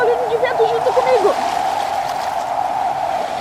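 A voice imitates wind with a wavering, rising and falling whoo that settles into a long, steady howling tone.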